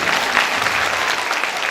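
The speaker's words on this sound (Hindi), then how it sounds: "बजा दो ताली एक बार" A brief, full burst of applause from a Brahma Kumaris gathering, many hands clapping together loudly and steadily for under two seconds without any speech.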